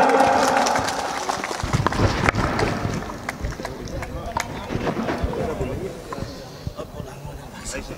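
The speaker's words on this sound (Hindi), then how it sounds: "अब जोगेंद्र रवाना जी, जोरदार तालियां।" Outdoor crowd at a farmers' mahapanchayat in Pipla village, Bharatpur, Rajasthan, applauding a speaker: a dense wash of clapping with sharp claps throughout, tapering off, amid wind and crowd noise.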